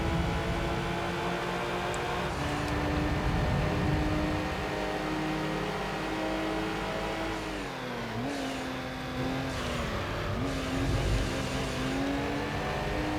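A Lupo Cup car races in Gran Turismo 3, its engine revving up through the gears with a brief hiss and a pitch drop at each shift, loud and continuous with no talk.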